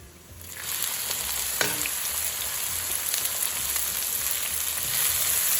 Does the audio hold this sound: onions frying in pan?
yes